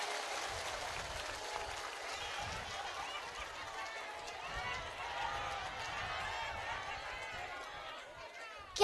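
Audience at a live comic Islamic sermon in Tegal applauds, a steady wash of clapping sustained throughout alongside crowd murmur and voices, moderately distant.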